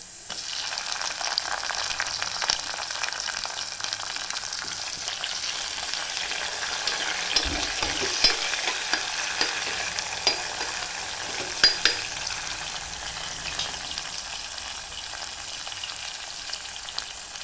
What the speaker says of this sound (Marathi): कांदा लालसर होपर्यंत परतून घेते मी